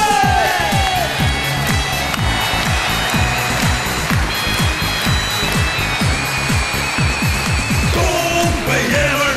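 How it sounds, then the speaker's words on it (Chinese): A studio audience on a Chinese dating show breaks into loud, sustained cheering and clapping as a young male contestant enters, with rhythmic percussive beats and music running through the whole stretch. "掌声有请小伙出场"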